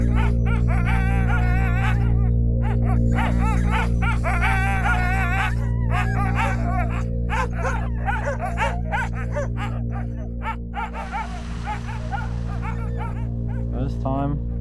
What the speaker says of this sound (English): They're bringing out the dogs.